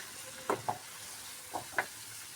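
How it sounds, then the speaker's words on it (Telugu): Ginger garlic paste mixed and fried in a pan for an omelet curry: four soft scraping strokes at uneven intervals over a faint, low sizzle, with no voices. "యాడ్ చేసి మంచిగా మిక్స్ చేసుకుందాం అంతాను."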